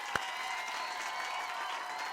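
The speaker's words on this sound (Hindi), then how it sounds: "हम तालियां बजाते हैं" Steady applause from a studio audience on the Hindi sitcom Taarak Mehta Ka Ooltah Chashmah, a dense, even wash of clapping lasting a couple of seconds with one sharper clap near the start and no talking.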